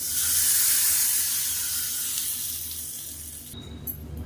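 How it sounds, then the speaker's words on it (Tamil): A hot tempering of mustard seeds, urad dal, curry leaves, dried red chili and asafoetida is added to chana dal chutney, giving a loud, bright sizzling hiss that fades gradually before a short clatter near the end. "கடுகு உளுந்து கருவேப்பிலை ஒரு வரமிளகா பெருங்காயம் போட்டு தாளிச்சதை இதை சேர்த்துக்கலாம்"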